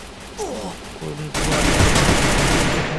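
Gunfire from shooting bots in a video game bursts in after a quieter opening and continues as rapid, sustained automatic fire, loud and close, with no talk over it.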